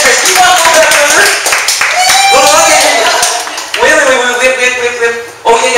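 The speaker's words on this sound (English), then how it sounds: "Give Lizzie a big round of applause" A small audience at a San Jose networking meeting claps for a woman named Lizzie; brisk, close clapping runs for several seconds under loud, overlapping talk and laughter.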